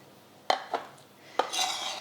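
A knife cuts a ripe avocado into chunks on a board, giving a few sharp, close knocks and soft scraping with short quiet gaps between them; no one speaks.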